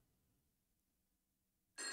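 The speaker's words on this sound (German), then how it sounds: "Ich gehe heute nicht ans Telefon." A telephone rings in the Bibi Blocksberg video game, starting abruptly and loudly at the very end after near silence, with no voices.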